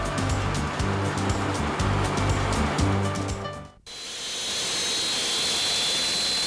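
Su-27 jet engines run up on the ground before an aerobatic team flight, giving a loud, steady, close roar that cuts out abruptly partway through, then gives way to an equally dense, continuous hiss, with no voices.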